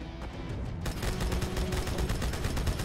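Sustained rapid turret fire in Halo 2 Anniversary, a loud, close, steady stream of shots that kicks in abruptly after a quieter opening and rattles on without a break.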